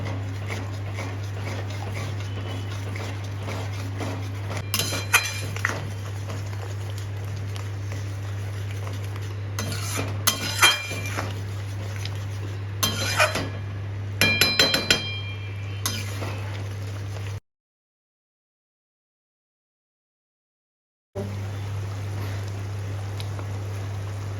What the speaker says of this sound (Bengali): নিয়ে আবার ভালোভাবে খুন্তিকে নেড়ে দিচ্ছি